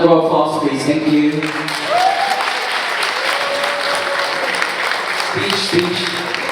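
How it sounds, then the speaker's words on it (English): A gala audience breaks into warm applause that swells and holds steady, with a speaker's voice heard briefly at the start and again near the end over the clapping. "Round of applause, please."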